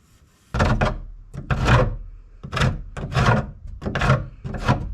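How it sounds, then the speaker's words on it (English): Wood on a boat being pried and worked with a hand tool, giving six loud, close scraping and rubbing strokes in an uneven rhythm with short pauses between them. "Do a little prying and working on it."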